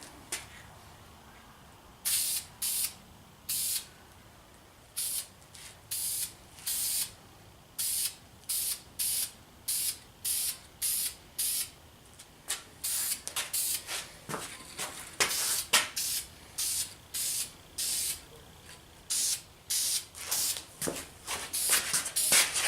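Aerosol can spraying sparkly wheel paint onto a wheel, heard as a long series of short hissing bursts, close and steady in rhythm, growing quicker toward the end, with faint handling noise between sprays.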